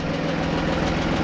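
A micro-tractor engine runs steadily with a loud, continuous rumbling chug close by, no voices over it.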